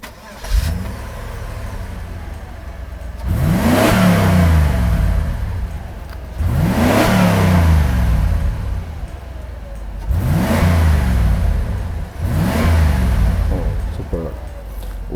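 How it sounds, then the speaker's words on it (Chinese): A Mercedes-Benz R107 560SL engine, with a broken exhaust pipe, cranks and fires up, then revs hard in three long surging bursts with brief pauses between, loud and close. "关掉引擎，重新启动"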